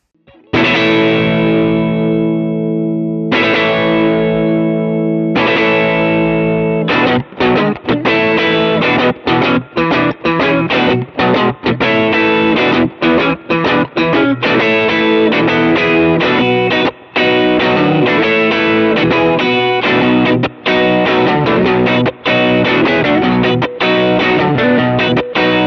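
Electric guitar driven through a One Control Honey Bee OD overdrive pedal, playing loud sustained crunchy chords that ring out, then a busier run of chopped rhythm strums and riffs, continuous and close with no talking.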